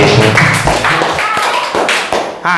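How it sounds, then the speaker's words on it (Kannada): Clapping breaks out for a singer at a comedy-style village singing contest, with sharp hand claps and taps mixed under loud voices. "ಬರ್ಲಿ ಜೋರಾದ ಚಪ್ಪಾಳೆ"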